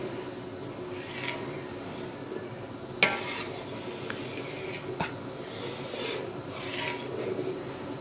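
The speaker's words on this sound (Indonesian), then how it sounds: "Ini cara simpel memasak bumbu kacangnya tanpa ribet, tanpa menggunakan minyak." Peanut sauce cooks in a pan without oil, with soft stirring and scraping scattered over a quiet background, a sharp utensil clack near the middle and a couple of lighter knocks later.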